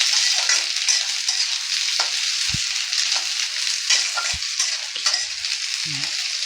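Onion frying in a pan for atta noodles gives a loud, steady hiss and sizzle, with occasional soft knocks of a spatula.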